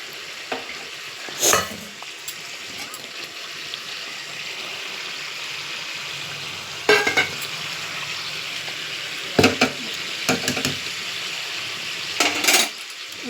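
Spice paste fries in a pan with a continuous low sizzle, broken by several sharp spoon scrapes and clinks against the metal as it is stirred at intervals.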